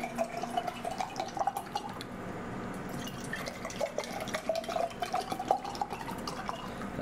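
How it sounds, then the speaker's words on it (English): Hawaiian Mountain Fresh bottled water pours into glass mason jars as a steady trickling and splashing stream with small drips, rising in pitch as the jars fill. It sounds close and continuous, with no talking. "So I'm gonna take this dead water, Hawaiian Mountain Fresh, pour them into these mason jars."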